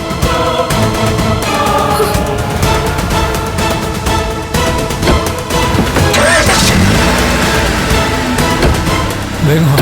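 A car engine starts up and the car drives off in a TV serial scene, a loud, rough engine roar revving under busy, overlapping voices and background music that stay dense throughout.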